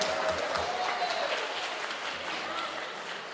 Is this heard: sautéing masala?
no